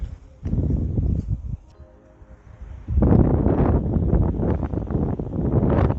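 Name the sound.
wind blowing on a disc golf course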